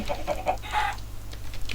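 Short run of chicken clucks, several quick clipped calls close by over a low steady hum.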